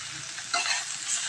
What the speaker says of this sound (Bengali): শাকগুলো দিয়ে ভালো করে নেড়ে নেব।